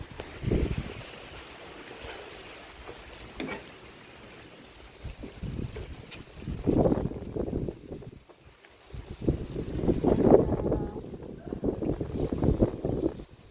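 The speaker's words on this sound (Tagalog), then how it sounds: "Mahangin dito sa labas." Gusty wind buffets the microphone outdoors while cooking, swelling and fading in rough bursts, with faint background sounds beneath.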